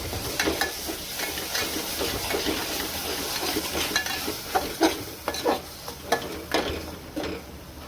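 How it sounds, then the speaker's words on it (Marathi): Chopped onion and curry leaves fry in hot oil for a Malvani-style chicken masala, giving a steady close sizzle broken by repeated scraping stirs and light clinks of a spoon against the pan. "इथे कांदा फोडणीला घातलेला आहे"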